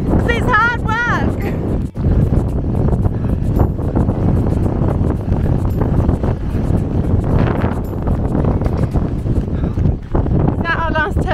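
Strong wind gusting across open fells during a race, roaring and buffeting the microphone with a constant low rumble while people talk over it.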